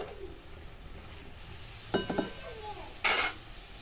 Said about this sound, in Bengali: মাংসটাকে আরেকবার আমি ভালো করে লেড়ে নেবো।